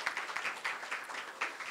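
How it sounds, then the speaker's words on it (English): Luncheon guests at a chamber of commerce gathering applaud past presidents with a quiet, uneven round of clapping that comes in small clustered bursts, heard alone. "let's give a round of applause to the past presidents who have joined us here today"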